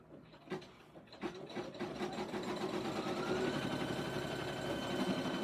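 An embroidery machine stitches applique split lines in white thread, starting with a few separate mechanical clunks and then settling into a fast, even, continuous whirring rattle, close and moderately quiet.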